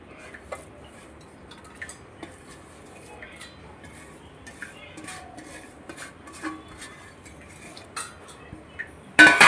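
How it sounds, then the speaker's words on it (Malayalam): Batter mixed with chilli, curry leaves and onion is stirred in a bowl, with a spoon lightly ticking and scraping against the sides throughout and a sharper clatter at the end. "മാവിലേക്കിട്ട് എല്ലാം കൂടി ഒന്ന് ഇളക്കുക"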